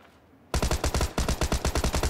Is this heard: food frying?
no